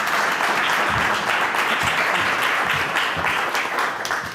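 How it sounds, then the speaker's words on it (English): An audience applauds after a local government productivity pitch, dense sustained clapping from many people at a steady level, with no speech over it. "I think on that note, we will give a round of applause and say thank you."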